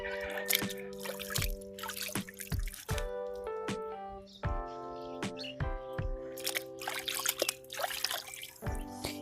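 Dahlia tubers are rinsed in water, giving soft drips, trickles and small splashes at irregular intervals over steady background music with sustained tones.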